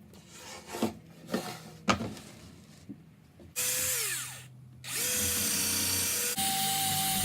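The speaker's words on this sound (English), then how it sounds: "To attach the strips to the top, I use glue and wood screws." Power drill driving wood screws into the top of a flip-top tool stand, preceded by wooden knocks and handling, then two sustained whining runs with a pitch change as each screw seats.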